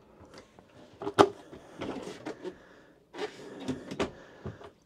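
Storage drawers in a Dethleffs Globetrotter XL I 7850-2 motorhome slide open and shut in two bursts, with wooden knocks and sliding rumble close by and no talk.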